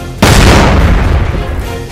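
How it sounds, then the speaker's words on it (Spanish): A loud explosion in an anime episode bursts in suddenly with a heavy, booming roar that fills the scene, then rumbles on and slowly tails off. "¿De dónde vino esa explosión?"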